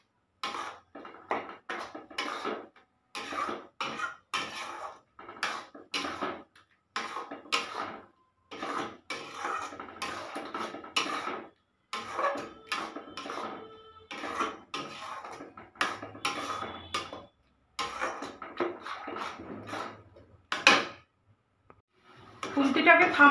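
A spatula scraping and knocking steadily around a pan of grated coconut, sugar and milk powder being cooked for naru, with a continuous rhythm of short clinks and scrapes under a speaking voice.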